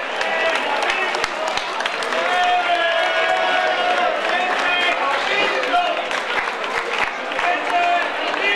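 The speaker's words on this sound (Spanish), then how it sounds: "Fuerte aplauso para los tres." Applause and scattered cheering from an audience at an award ceremony for an urban mile and half marathon race, steady and fairly loud throughout, with voices calling out over the clapping.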